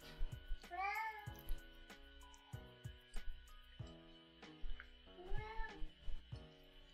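A cat meows repeatedly, about three to four distinct cries with rising, wavering pitch, close and fairly loud, during a kitchen stream amid clattering and background noise.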